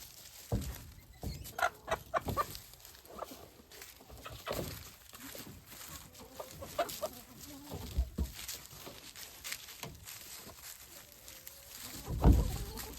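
A stressed hen clucks in a backyard coop, sounding close by in scattered bursts with short pauses. Rustling and handling noises mix in, and a loud thump comes near the end.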